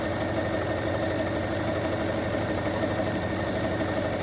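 A sewing machine stitching around the edge of a half apron, a steady, continuous mechanical whir and rapid rattle throughout, close and even.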